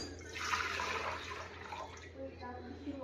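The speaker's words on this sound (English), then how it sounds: "I pre-measured 3 cups of water, and we're gonna put it in this mixing bowl" Three cups of water are poured into a mixing bowl for bread dough, giving a splashing, gurgling rush that swells, then tapers into smaller trickles, close and moderately loud.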